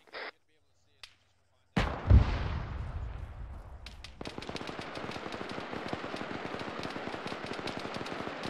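Rapid automatic gunfire in ArmA 3, with a tank shooting on a street during a platoon mission: a heavy blast opens, then sustained loud machine-gun bursts rattle on steadily.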